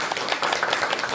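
Congregation clapping after a worship service, a brief burst of many hands clapping together in an indoor room, close and fairly loud.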